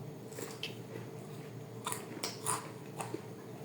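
Close, crisp crunching bites into homemade fried chicken, a few sharp crackling bursts over a quiet background with no talk.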